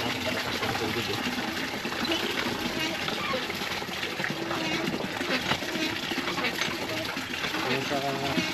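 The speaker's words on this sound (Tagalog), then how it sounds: "Maglalagay ng tubig sa washing machine" Water pours steadily into a washing machine tub during laundry at home, a continuous splashing rush from a strong household tap that runs throughout with a voice talking over it.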